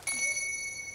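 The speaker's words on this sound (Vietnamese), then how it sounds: "Nhấn chuông để mở." A bright bell rings once on a game show, a single struck tone that sustains and fades over about a second.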